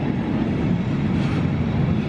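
A water train on the railway at Bletchley pulls into a loop, giving a steady, loud rolling rumble of wagons with faint rail noise, continuous and close by.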